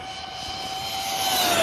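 A Rlaarlo DSK RC car's electric motor runs at full throttle, giving a loud, steady high-pitched whine that rises slightly in pitch over a couple of seconds.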